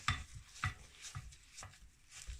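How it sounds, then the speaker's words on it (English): A wooden spoon stirs a thick oat and banana mixture for flapjacks in a bowl, giving soft, regular scraping strokes about every half second, close and quiet with no voices. "we'll get our wooden spoon and we'll give it a big stir until it's all mixed together"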